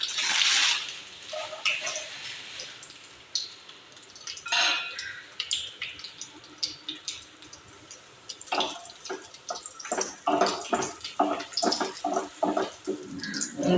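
Raisins frying in a mix of ghee and oil give off a close, busy sizzle and crackle with bursts of spattering that thicken toward the end.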